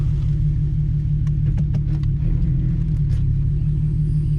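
A Ford Mustang's engine, newly fitted with a Bama tune, idles close by with a steady, deep rumble, low and constant, with a few faint clicks and ticks scattered over it.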